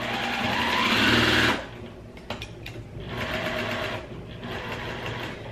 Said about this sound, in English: I just flip it over and sew again.